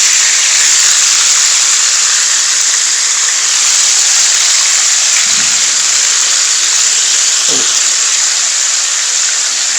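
Fish pieces for a fish curry frying in hot oil, giving a steady, loud sizzling hiss that runs unbroken throughout, with a couple of brief low knocks.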